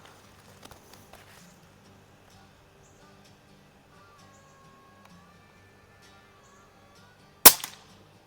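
A single sharp shot from a Notos air rifle fitted with a C88 FX barrel kit, fired at a target: one crisp crack near the end after several seconds of near silence with faint background noise.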